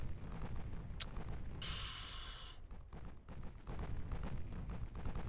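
Warship guns fire in the naval battle game Ultimate Admiral: Dreadnoughts, aboard a Deutschland class super battleship: a dense, steady rumble of heavy gunfire with a bright, sustained blast rising partway through, no voices.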